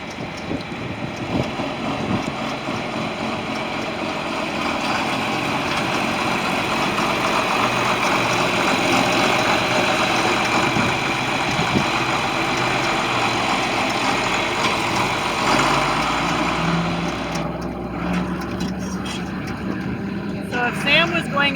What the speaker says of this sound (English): he's going to take the tractor for a drive so we can watch him go